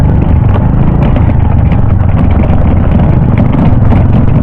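A motorcycle passes close by at an overnight campsite, its loud, rough engine drone filling the whole stretch with steady rumbling and no talk over it.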